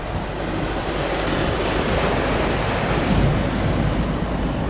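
Sea waves wash steadily onto a rocky beach strewn with slippery stones, a continuous loud roar of surf with wind buffeting the microphone and no voices.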